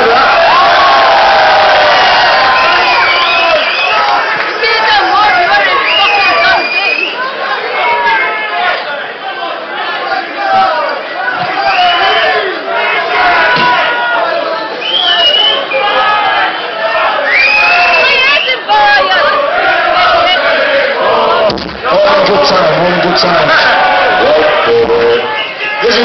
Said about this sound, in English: somebody applaud yourselves. There's a thousand of you in here tonight.